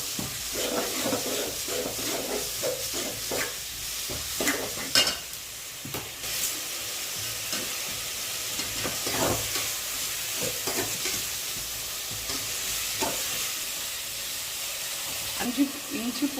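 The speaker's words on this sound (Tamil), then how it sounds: "பச்சை மிளகா வெட்டி போட்டு நல்லா வதக்க போகிறாங்க." Green chillies sauté in hot oil in a pan, a constant hissing sizzle with repeated scraping and clattering stirs, and a voice occasionally speaking over the cooking.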